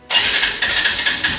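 A Bajaj NS125 motorcycle engine starting up close: a sudden mechanical crank into a loud, uneven idle with repeated pulsing bursts, alone with no talk.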